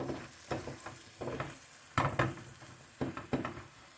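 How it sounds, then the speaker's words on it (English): Mixed vegetables stirred in a pan: a run of soft scraping and clinking strokes in uneven bursts, close and fairly quiet, with no talking. "Give it a little mix."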